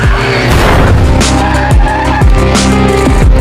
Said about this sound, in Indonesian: tiba-tiba ia ditabrak oleh mobil yang dikendarai oleh In-soo